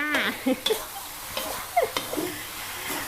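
Instant noodles sizzle in a hot wok while a metal spatula scrapes and clanks against it in quick, irregular strokes, close up.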